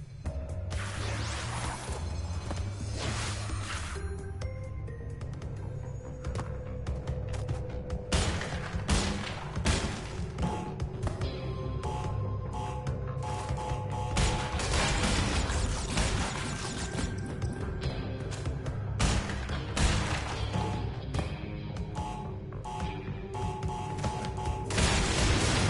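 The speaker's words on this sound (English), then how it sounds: "I forgot the resultant explosion" Explosion and blasts in the Crash Bandicoot N. Sane Trilogy game, a loud, continuous barrage of booms, whooshes and crashing effects layered over game music for the whole stretch.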